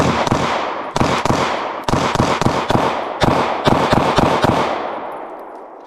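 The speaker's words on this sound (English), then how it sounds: "This time we're going to mag dump to see what it does under actual rapid fire," A Taurus GX4 Micro pistol is fired in a rapid mag dump, a fast string of about a dozen loud, sharp gunshots in quick uneven bursts, ringing out outdoors with no talk.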